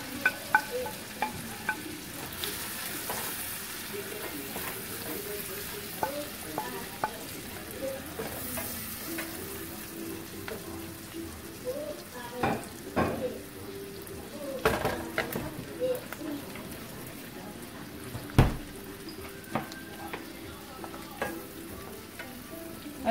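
Sautéed vegetables for Chinese rice stirred in a pan, a low sizzle with intermittent scraping and spoon clinks, some louder knocks against the pan, and faint background murmur.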